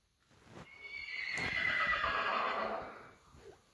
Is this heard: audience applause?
no